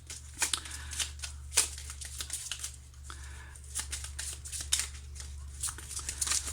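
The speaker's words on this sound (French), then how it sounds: "Je vais sortir une autre carte quand même." Tarot cards shuffled and drawn by hand, a run of crisp riffling and slapping card sounds with a steady low hum underneath, close and fairly quiet, no voices.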